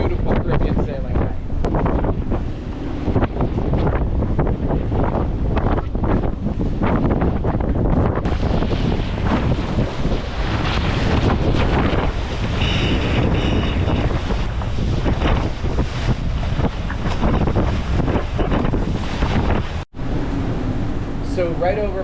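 Strong 20-knot wind buffets the microphone aboard a sailboat with its centerboard down, crossing the Grenadines at night, a continuous loud roar mixed with rushing water and the hull's motion.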